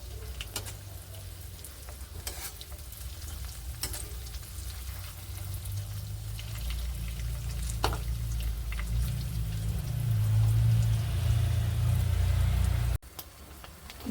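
Pea pakoras frying in hot oil over a medium gas flame, giving a steady close bubbling sizzle with occasional crackles that swells slightly before cutting off abruptly near the end.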